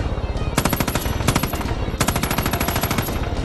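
Rapid automatic gunfire in the Far Cry 5 video game, two sustained bursts of evenly spaced sharp shots, loud and close, separated by a brief gap.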